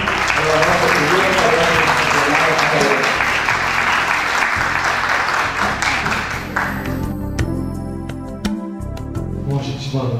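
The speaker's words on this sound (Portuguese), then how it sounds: "gostaria que recebesse o professor Laureano Guerreiro com um caloroso aplauso" Warm, loud audience applause welcoming Professor Laureano Guerreiro to speak, dense and steady at first, then thinning into scattered claps and room noise near the end.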